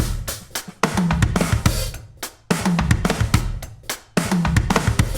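A drum kit repeats a rolling 6/8 groove broken by rapid fills, with bright cymbal crashes and firm snare and kick hits, played at a quicker tempo.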